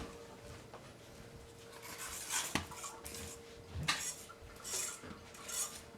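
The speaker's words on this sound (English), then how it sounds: "Let's grate some nutmeg in there." Fresh nutmeg grated on a microplane over a béchamel, faint scratchy rasping strokes in a few separate bursts with quiet kitchen clatter between them.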